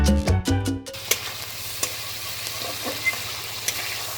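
Fish curry frying in a pan in a village kitchen, a close steady sizzle with scattered crackles and pops after a few brief knocks at the start, no voices.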